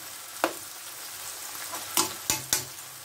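Previously frozen ingredients sautéing with onion in a pan: a steady frying sizzle close up, punctuated by four sharp spoon knocks against the pan, with no one speaking.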